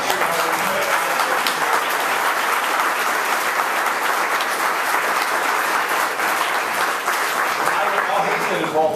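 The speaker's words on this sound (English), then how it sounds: "Give him a great round of applause" A retail merchants gathering breaks into loud, continuous applause, a thick wash of many hands clapping at a steady level throughout.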